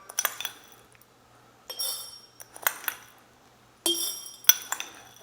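Metal teaspoon clinking against glass jars as dried spices such as black pepper go in, several bright chinks and taps in short separated bursts, close and clear with no talk.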